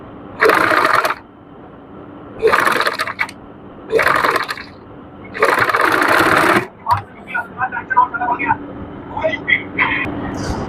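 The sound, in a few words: sewing machine stitching trouser ribbons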